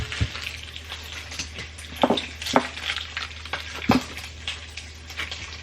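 Bacon frying in a pan with a steady crackling sizzle, punctuated by several sharper pops and spatters, close up with no talking.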